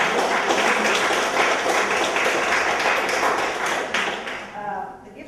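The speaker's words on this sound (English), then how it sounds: "So give yourself a round of applause." An audience gives a round of applause, a dense patter of clapping that holds steady, then thins and fades out over the final second.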